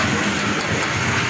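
A train passes near Tiruppur, a steady, loud rush of rolling rumble and hiss that fills the whole moment without a break.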